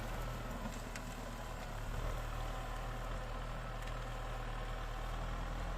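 A Kubota M6040 tractor runs steadily while plowing with a three-disc plough, a continuous low diesel rumble heard from a short distance under faint wind, with no talking.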